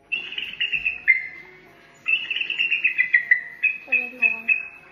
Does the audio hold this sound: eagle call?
yes